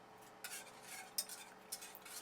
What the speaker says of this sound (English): I should not have been using this whisk on here.